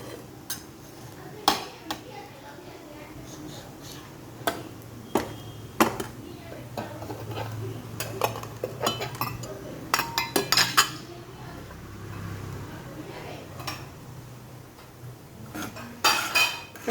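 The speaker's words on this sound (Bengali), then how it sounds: "এটা আমি নাড়তে থাকি, নাহলে নিচটা আমার লেগে যাবে।" Egg and flattened-rice pilaf is stirred in a pan on a gas stove, with a metal spoon clinking and scraping against the pan in irregular taps under a steady low hiss.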